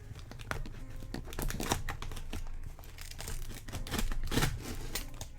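A blade slicing into a heavy cardboard parcel box, heard as quiet, uneven scraping and crinkling cuts with short tearing bursts, close and steady with no talking.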